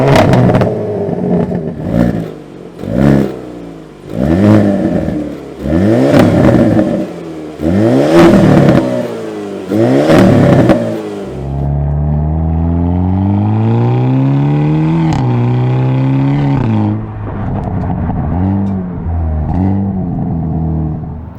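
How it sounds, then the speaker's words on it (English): A 2022 Hyundai Kona N with exhaust valves open revs hard in a series of sharp blips, then pulls through a long rising acceleration, loud and close with crackles between throttle bursts. "would you just listen to this engine?"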